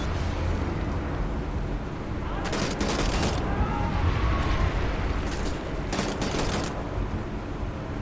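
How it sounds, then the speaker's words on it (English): Dual-wielded rifles fire in Wolfenstein The New Order, dense overlapping bursts of gunfire over steady game noise, with sharper volleys standing out near the start and again toward the end. "you can dual-wield rifles, which is pretty badass"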